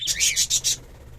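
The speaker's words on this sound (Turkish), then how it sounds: "jumbo muhabbet kuşlar arkadaşlar bunlar jumbodur" Several quick, high-pitched chirps from young jumbo budgies repeat in a rapid run up close, then stop, leaving a quiet background.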